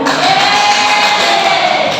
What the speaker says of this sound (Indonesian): Guys, tepuk tangan dulu.